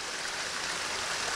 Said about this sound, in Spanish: El agua empezó a salir de allá, mire.